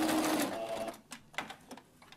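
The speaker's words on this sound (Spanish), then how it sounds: "Termino un lado, volteo la tela y voy a coser el otro." A home sewing machine stitches fabric in a quick whirring run that stops, then gives a few short isolated bursts of stitching, close and fairly faint.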